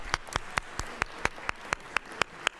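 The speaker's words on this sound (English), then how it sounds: "Please give them a round of applause." An audience at a congenital heart defects awareness event claps in a sparse, evenly spaced rhythm of about a dozen sharp claps, fairly close, with no talking.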